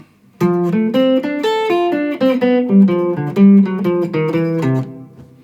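A short melodic guitar phrase in a jazz style, clean single notes played one after another, alone and fairly close.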